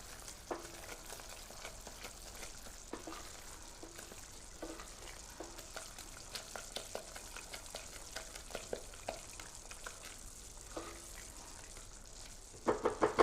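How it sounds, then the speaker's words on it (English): Melted sugar syrup, just turning colour, is stirred with a spatula in a pan: quiet bubbling sizzle with repeated soft scraping strokes and a few louder knocks at the end. "I've got my spatula out and I'm giving that one a stir now"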